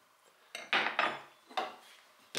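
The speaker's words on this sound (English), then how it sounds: "knife that across" A knife blade scores a line across a wooden workpiece for a cross halving joint in a trivet, producing several short, close scraping strokes with quiet pauses between them.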